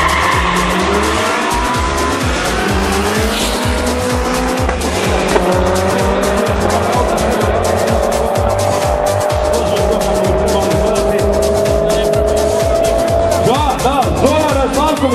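Race car engine from a Maruti 1.6 rear-wheel-drive with turbo and nitro, about 150 horsepower, at a Class 13 racing event in Osijek, roaring loud and sustained with revving and tire squeal, and a commentator talking over it.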